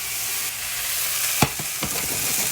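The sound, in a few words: gnocchi pan frying in oil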